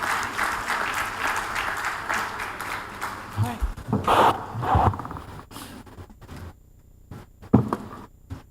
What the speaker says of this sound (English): can we give this panel a resounding round of applause?